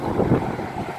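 Wind gusts blowing outdoors, a brief broad rushing roar with low buffeting rumble against the microphone.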